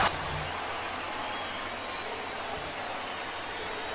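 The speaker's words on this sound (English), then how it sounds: "Crowd getting into the game here at Comerica." Stadium crowd noise from a baseball game at Comerica Park in MLB The Show 19, a steady broad roar of cheering and applause sustained throughout, loud and continuous with no talk.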